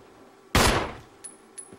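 A single loud gunshot blast from Resident Evil HD Remaster, fired at a zombie, fading out quickly, followed by a few faint clicks.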